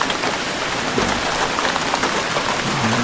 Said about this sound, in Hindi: बाहर फुल बारिश स्टार्ट हो गई है।